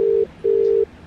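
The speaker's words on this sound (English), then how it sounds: "It's ringing." Two steady electronic ringback tones, one short and one longer, separated by a brief pause, clear and close as on a phone line.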